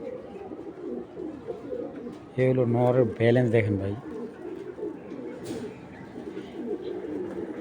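Low pigeon coos from a loft of fancy breeding pigeons murmur in the background while someone talks loudly nearby.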